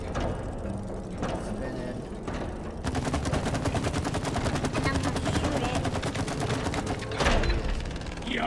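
Rapid, dense gunfire from the video game It Takes Two, a continuous fast stream of shots lasting several seconds over a busy game soundscape, loud and close.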